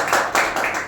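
Short burst of audience clapping at a meeting, a few loud rhythmic swells of applause in under a second.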